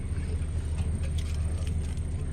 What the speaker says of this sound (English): we're just boarded the bus in Lagos to go to Lisbon